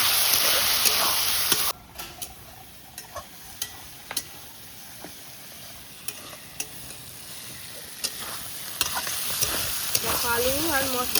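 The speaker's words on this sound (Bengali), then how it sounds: "ভালো করে মশলাটাকে কষিয়ে নিতে হবে" Ginger, garlic, onion and chili spice paste fries in a pan with a steady, close sizzle, louder for the first two seconds, broken by repeated light clicks and scrapes of stirring.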